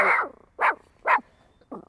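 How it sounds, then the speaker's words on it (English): A dog gives three short, sharp barks spaced evenly apart in a comedy interview setting, loud and close with no talking over them. "a handsome dog's in the scene. Why are you mad?"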